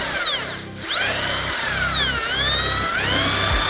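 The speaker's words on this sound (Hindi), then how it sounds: "ड्रिल में जो बिट है उसकी जगह ब्रश घूम रही है" A power drill spins a brush fitted in place of its bit inside a bucket of potatoes and water, giving a loud, steady whir that rises and dips in pitch through short pauses, with no talking.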